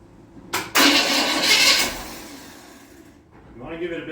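A 1948 Ford truck engine cranks briefly, then catches and roars loudly up close before settling toward a rough idle, with a voice speaking over it near the end.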